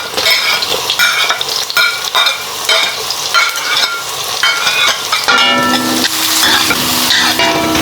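Ginger, onion and garlic sauté in a hot pan, a steady close sizzle with repeated scraping stirs of a spoon against the metal, all the way through and with no talking.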